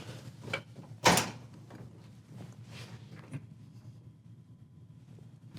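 A Whirlpool clothes dryer door is opened with a single sharp click-thunk, followed by faint rustling and small handling sounds in a quiet room.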